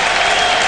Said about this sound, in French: Trezeguet sort, applaudi par le public